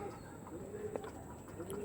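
Tournament-quality Andhra pigeons coo faintly against a steady background hiss, with soft, brief calls scattered through the moment.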